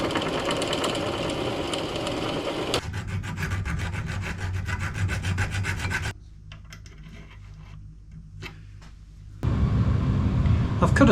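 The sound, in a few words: power tool cutting slot holes in metal sword guard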